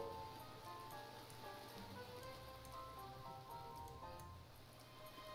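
Steady rain patters on surfaces in the horror game DeathComing, a soft, continuous hiss of drops with faint scattered ticks, quiet throughout and without speech.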